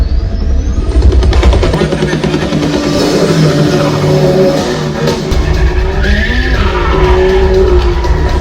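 A BMW in a car chase, engine roaring loud and close with tires squealing and skidding throughout, harsh continuous road noise filling the whole stretch.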